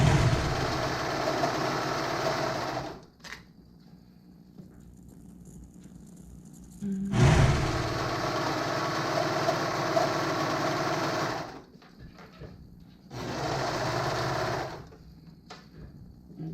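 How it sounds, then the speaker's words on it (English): A sewing machine stitches the seams of a knitted cardigan in loud, steady buzzing runs of a few seconds each, separated by short pauses. "so I like to just sew the bottoms first and then I'll go ahead around"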